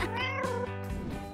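A kitten gives a drawn-out, rising and falling meow followed by a shorter second call, close and clear over a low steady hum, with no talking.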